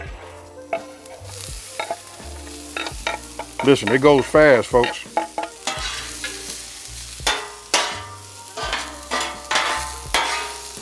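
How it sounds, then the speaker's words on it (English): Vegetables for Cajun fried rice sizzle on a hot griddle amid repeated scraping stirs, and someone speaks briefly over the frying. "now that I got my griddle ready, now we're gonna go ahead and just get our, our veggies on."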